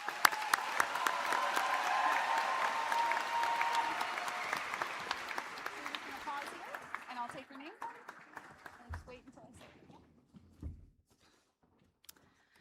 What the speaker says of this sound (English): Let's give them a large round of applause to get them started.